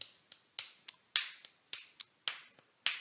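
Flamenco palmas are clapped in a tangos rhythm, crisp close hand claps alternating strong and lighter accents in a steady syncopated pattern, with no talking.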